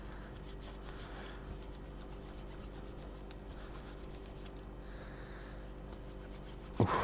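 A magic sponge rubs back and forth on a black plastic Xbox Series controller, steady close scrubbing strokes in a soft sanding rhythm, ending in a sudden louder knock.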